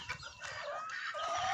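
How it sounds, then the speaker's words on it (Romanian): Backyard chickens cluck softly, a few short faint clucks and murmuring calls at close range in a quiet farmyard with no talking. "Astăzi să fac un videoclip cu găinile"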